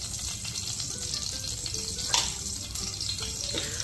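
Mustard seeds and cumin frying in hot oil for rava upma, a close, even sizzle with one brief sharp crackle partway through.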